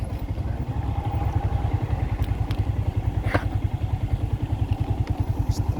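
Motorcycle ridden along a rough mountain trail near a collapsed bridge, its engine a steady close putter with rhythmic pulsing, occasional clatter and thumps from the bumpy ground.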